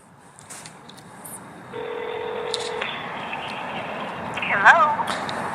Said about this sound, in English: Is this enough to place a phone call? This is an iPhone of Verizon.